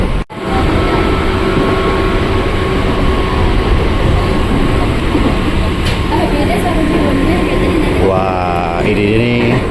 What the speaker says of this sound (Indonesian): Dan kita berangkat nih dari Bojonggede bersama komuter yang tujuan stasiun Bogor.